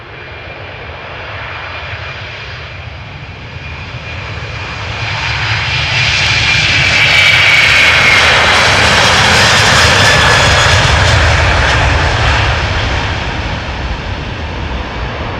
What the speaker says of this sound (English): Airbus A330-200, destination Sint Maarten. This airplane is 18 years old.